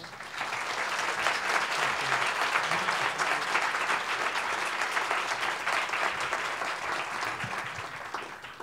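An audience at an academic lecture applauds a speaker onto the stage with dense, sustained clapping from a large crowd. It holds steady for several seconds before tapering off.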